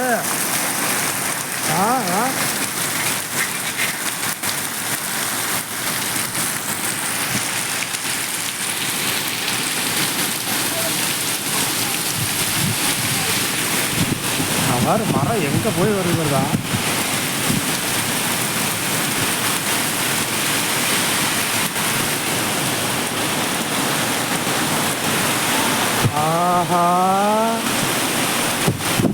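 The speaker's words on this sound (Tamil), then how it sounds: "பேய் மழை மாதிரி இந்த மழை அடிக்குது." Heavy rain roars loudly and continuously, with strong gusting wind, in Salem, India, while a few voices speak and exclaim briefly over the downpour.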